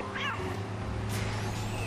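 A cat meows once in Grand Theft Auto III, a short rising cry early on, set against a steady low engine hum and street ambience from the game.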